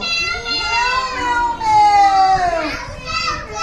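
In a children's story, a high child-like voice imitates a kitten's meows, drawn-out rising and falling cries that repeat a few times, loud and close.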